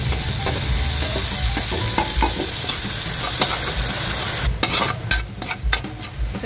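Garlic, onion and tomato sautéing in a pan for ginisang ampalaya with shrimp, a loud, close, constant sizzle with scraping and clattering stirring toward the end.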